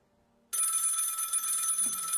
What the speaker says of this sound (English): We're not answering this phone.